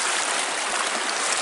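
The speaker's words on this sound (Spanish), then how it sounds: "Miren cómo viene el agua." A clear river rushes steadily along its riverbed, a dense, continuous wash of flowing water close by with no pauses.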